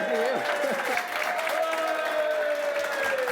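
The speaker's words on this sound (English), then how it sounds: "give them all a big round of applause" An audience applauds the National Lottery staff at a Money Spinner draw, a steady wash of clapping held under a presenter's continuous speech.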